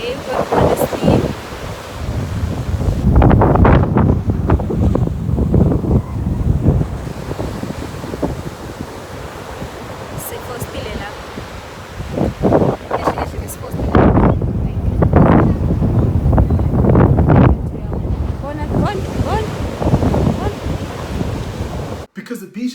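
Strong wind blows at a beach, buffeting the microphone in loud, gusty bursts over a constant roar of surf, with only brief lulls between gusts.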